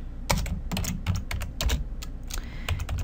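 Fingers tap out a word on a computer keyboard, a quick irregular run of close, crisp keystrokes with no voice over it.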